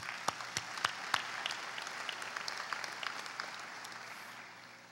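Audience applause at a graduation ceremony: sustained clapping from a large crowd, steady and fairly distant, with a few sharper claps standing out early on and the sound tapering slightly toward the end.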